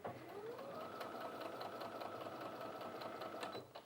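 A Brother Innov-is F560 sewing machine runs a straight stitch in one continuous burst, its fast motor whir and needle chatter holding steady at close range before stopping near the end.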